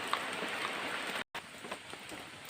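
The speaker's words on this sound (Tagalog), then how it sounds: "medyo malakas yung ulan" Heavy rain pours steadily outdoors at a banana planting spot, a dense even hiss of falling drops with a brief dropout midway, moderately faint.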